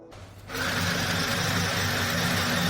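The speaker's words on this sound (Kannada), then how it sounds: "ಆ ನಂತರ ಸ್ಟಾರ್ಟ್ ಬಟನ್ ಒತ್ತಿ ಬಾಬಿನ್ನು ತಿರುಗಿಕೊಡಲು ಪ್ರಾರಂಭಿಸುತ್ತದೆ ನೂಲು ತುಂಬುತ್ತದೆ" A Chillaxplus mini sewing machine winds thread onto its bobbin, starting with a faint hum before its steady mechanical whirr kicks in loud and close and runs on evenly.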